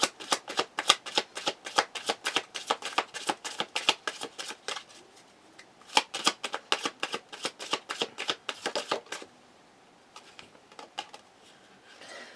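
Moonology oracle cards being shuffled by hand: a long run of quick, crisp riffling bursts in steady rhythm, close and fairly loud, with a brief lull before the riffles resume and trail off near the end.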